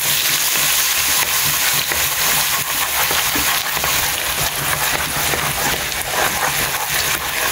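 Ginger garlic paste, about two tablespoons, frying in a pan while making a chicken dish, giving a steady, loud, rain-like hiss and crackle that runs unbroken throughout with no talking.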